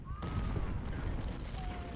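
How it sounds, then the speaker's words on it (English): Cannon fire in the Ultimate General: Civil War game's Battle of Chickamauga, a dense, continuous rumble of booming artillery that sounds close and loud for the whole stretch, with faint whistling tones drifting over it. "Cannons have started doing their work."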